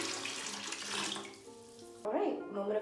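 Water tipped out of a bucket: a continuous splashing, pouring rush that shifts partway through into a closer, brighter gush, loud and alone.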